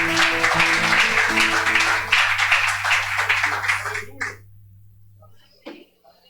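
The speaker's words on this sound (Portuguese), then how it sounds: "Você pode aplaudir ao Senhor, querido?" Applause and clapping from a church congregation over a sustained organ-like tone, fading away into near silence.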